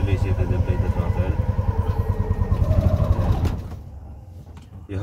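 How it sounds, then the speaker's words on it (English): A tuk-tuk engine chugs with a fast, rhythmic pulse that builds as the throttle is worked, then drops back toward a lower idle, with a voice speaking over the close, steady motor. "Release it and then play the throttle."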